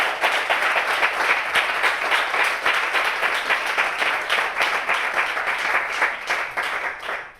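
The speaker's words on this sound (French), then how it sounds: "On applaudit vos avis et son avis aussi." Steady applause from a studio audience at a French-language talk show, dense continuous clapping held at an even level throughout and fading slightly at the very end, with no voices over it.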